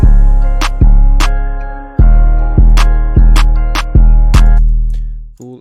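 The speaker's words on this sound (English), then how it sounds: "After that we go to the clap." Sharp, bright clap hits land on a rolling, deep 808 bass line in an FL Studio trap beat, several snappy strikes spaced unevenly over sustained booming notes, loud and with no voices.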